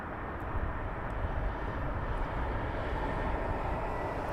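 A Boeing Dreamliner at Heathrow Airport gives off a steady, broad jet engine roar, low and continuous, moderately loud with no break and no voices.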